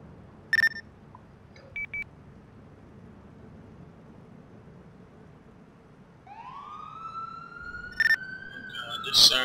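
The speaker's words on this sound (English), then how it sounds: "Sirens in the area." A police siren in GTA IV starts wailing partway through, rising and sweeping steadily, after a few short electronic beeps over a low background rumble.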